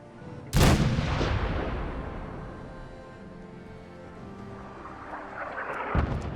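A cannon fires in Fallout 4 with Sim Settlements 2, one big booming blast rolling off into a long fading rumble, then a second heavier report near the end.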